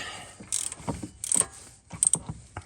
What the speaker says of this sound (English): Then you're going to take your socket and ratchet, and on some of these you may have to use a bar